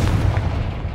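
A fiery blast from the Confringo spell in Hogwarts Legacy, a loud, dense booming burst that fills the moment and slowly trails off.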